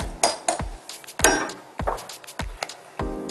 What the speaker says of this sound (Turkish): İçeceğimizin karışması için hafifçe karıştırıp